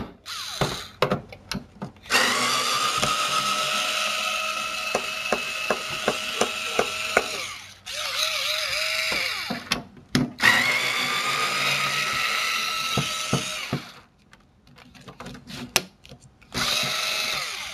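A power screwdriver whirs in repeated bursts while loosening the screws on a PS3 20GB console during a repair, with several long close runs broken by short pauses and clicks.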